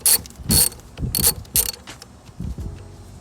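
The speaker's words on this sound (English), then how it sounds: "first thing I'm going to do is undo this nut with the 12mm" A ratchet socket wrench with a 12mm socket loosens a battery terminal nut on a 4th-generation Toyota 4Runner: several quick, close clicking ratchet strokes in short bursts, alone with no talk.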